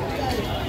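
A dense crowd murmurs and chatters at a busy fish market in Panvel Koliwada, with many voices blended into a brief, continuous babble.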